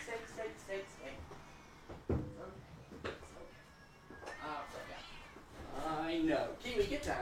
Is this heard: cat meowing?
yes